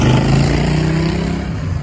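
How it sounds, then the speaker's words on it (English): Loud motorcycle engine rumbles up close at the Street Vibrations motorcycle event in Reno, Nevada, a steady heavy growl that slowly fades with no voices over it. "Expect lots of loud motorcycles."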